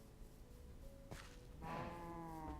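A Minecraft cow in the FTB Unleashed modpack lets out a single drawn-out moo near the end. A sharp click comes just before it, and soft game ambience sits underneath.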